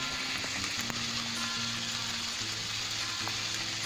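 Potatoes and spring onions fry over low to medium heat, giving a steady, even sizzle and crackle throughout with a low hum underneath and no voices.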